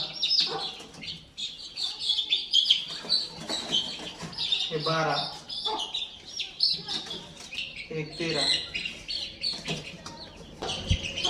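Kadaknath chicks, fifteen of them with a hen, chirping in a steady high twittering cluster throughout, close by, while someone talks and counts over them.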